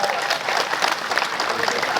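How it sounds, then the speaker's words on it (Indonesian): Applause from a crowd of guests at an Indonesian thanksgiving gathering, steady dense clapping filling the whole moment at a fairly close, even level. "Tepuk tangan dulu buat ibu rumah tangga."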